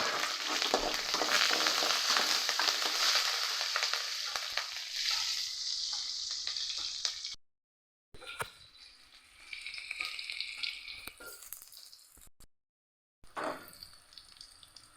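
Fennel seeds, mustard seeds, curry leaves and onion fry in hot oil, a loud crackling sizzle that fades gradually, broken by two brief silent cuts, with stirring scrapes.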